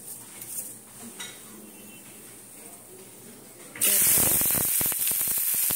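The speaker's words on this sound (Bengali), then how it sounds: "তেলটা গরম হয়ে গেছে। এবারে আমি গরম মশলাগুলো দিয়ে দিচ্ছি।" Whole garam masala spices dropped into hot oil, a sudden loud sizzling hiss that bursts in after quieter kitchen sounds and holds steadily to the end.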